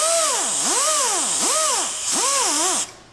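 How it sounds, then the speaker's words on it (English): A die grinder with an abrasive wheel polishing the inside of a cast band ring, a loud, high whine that keeps swooping up and down in pitch as the load shifts, then stopping abruptly near the end. "Once I have finished with this die grinder, the medium or the coarse one, I'm going to switch it over"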